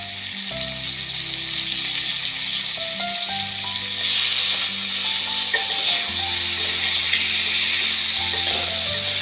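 Chopped tomatoes hit potatoes frying in a pan, giving a steady, close sizzle that grows louder partway through and carries on alone without talk.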